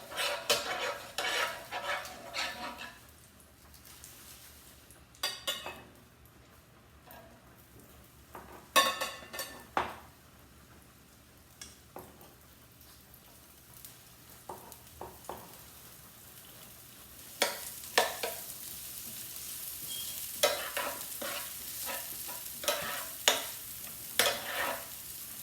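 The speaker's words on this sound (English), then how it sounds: "Put a little bit of this olive oil in the pan. We're gonna saute our vegetables first." Vegetables sautéing in olive oil in a pan, a steady sizzle with repeated scrapes and clinks of a utensil stirring against the pan, loud in bursts and quieter between, with no voices.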